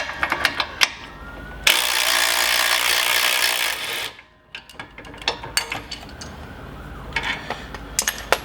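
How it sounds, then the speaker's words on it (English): Small 8mm socket ratchet clicking as it removes bolts from a plastic panel during a Jeep lift kit install, with bursts of rapid close ratcheting, a steady mechanical whir for a few seconds, then more short intermittent clicks. "So it takes a small 8mm socket or nut driver to remove these 3 bolts from this plastic panel"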